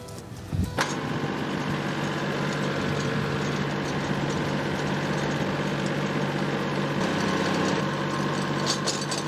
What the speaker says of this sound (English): I'm gonna pull the tractor in and get the auger going.